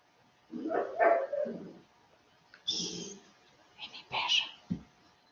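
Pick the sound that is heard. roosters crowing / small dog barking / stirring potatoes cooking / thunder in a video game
small dog barking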